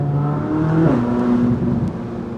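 A 2024 Corvette C8 Z06 with its stock exhaust revs in a short burst, a rising engine note that dips and climbs again, close and fairly loud, with no talking.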